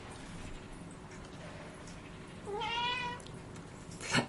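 A cat meows once in a rising, harmonic call near the middle, clear over a steady low hum, with a short faint noise burst just after.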